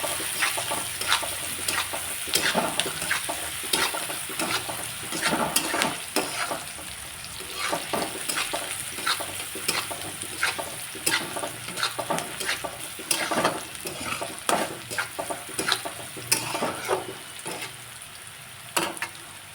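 Onion fries in a pan for a methi matar curry, a continuous close sizzle dotted with frequent sharp scraping clicks of a spoon stirring, with no talk throughout.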